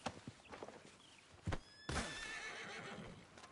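A horse in Red Dead Redemption 2 gives a whinny amid hoof clops and game ambience, with a louder burst partway through followed by sustained noise.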